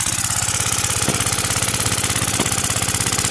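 An old Briggs & Stratton Model Y single-cylinder engine with a simple mixer instead of a carburetor, running steadily with a fast, even chugging beat, close and loud, with two faint clicks.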